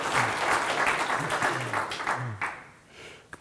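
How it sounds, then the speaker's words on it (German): Dense, steady applause from the audience at a Homematic user meeting talk, loud and continuous at first, then thinning out and fading near the end under a faint voice. "Da möchte ich mal einen ganz großen Applaus"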